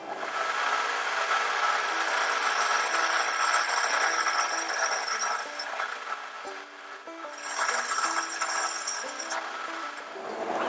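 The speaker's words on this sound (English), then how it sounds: "So let's go ahead and drill through this." A power drill grinds steadily through metal, its high whine shifting in pitch as the bit bites, with occasional metallic clinks along the way.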